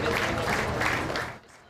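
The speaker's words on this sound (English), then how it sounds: "Mark Milley, received a clap-out Thursday as he left the Pentagon for the final time" Brief steady applause from a gathered group as Mark Milley leaves the Pentagon for the final time, a dense patter of many hands clapping at moderate distance that cuts off abruptly near the end.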